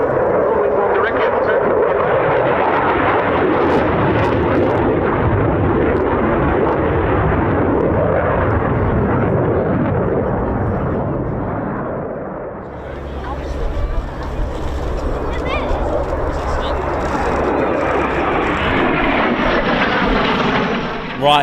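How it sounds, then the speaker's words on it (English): At an RAF Cosford air show, a solo F-16 fighter jet roars through its display with a loud, sustained engine rumble that swells and shifts as it passes. A commentator talks over it throughout. "the legend, the man, is Risco with his solo F-16 display"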